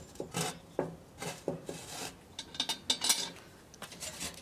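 Charcoal briquettes scraped and set one by one onto the lid of a cast-iron Dutch oven, giving close, dry rasping clinks and rubs in an irregular run of short bursts.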